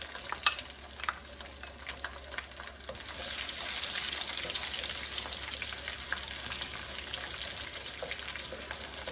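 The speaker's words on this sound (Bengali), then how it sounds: "তেল গরম হয়ে গেলে তেজপাতা দিয়ে দিলাম শুকনো মরিচটা দিয়ে দেব" Bay leaves and dried chili fry in hot oil for a pickle, with a sharp crackle at first that settles into a continuous close sizzle, broken by occasional stirring clinks.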